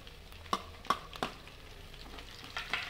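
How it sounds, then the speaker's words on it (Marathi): Oil sizzles quietly in a pan while a spoon gives several sharp scraping clinks as the chilies are stirred. "मी त्यामध्ये ही हिरवी मिरची टाकून देते तेलामध्ये तळण्यासाठी।"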